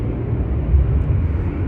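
Embraer 190 jet departing Amsterdam Schiphol, a steady low engine roar held close and loud for a brief stretch with no voices.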